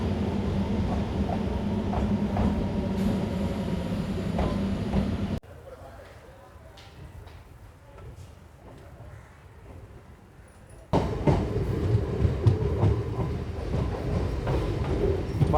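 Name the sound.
MEMU express train running on rails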